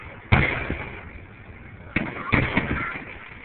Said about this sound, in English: All those booms and nothing happened.